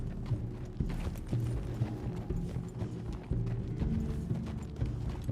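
Hooves clip-clop in a steady, close, rhythmic gait as a horse moves in Red Dead Redemption 2, with faint mechanical game sounds underneath.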